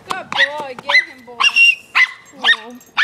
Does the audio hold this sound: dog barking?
yes